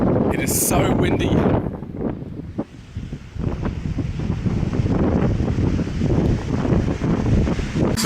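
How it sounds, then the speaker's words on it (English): Strong coastal wind buffets the microphone along a boardwalk by the Twelve Apostles rock stacks, a constant loud roar with gusty surges and surf beneath, and a brief voice near the start. "It is so windy."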